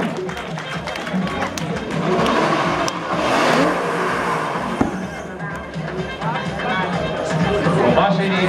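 A BMW E30 drift car revs hard at a drift show, its engine rising and falling in loud bursts while a crowd murmurs and people talk nearby.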